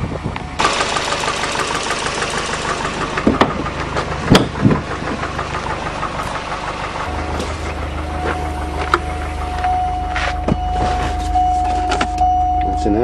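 A Volvo turbo car engine runs steadily through a drive, with a low rumble beneath a loud broadband hum, a few knocks and rattles, and a steady whine appearing partway through.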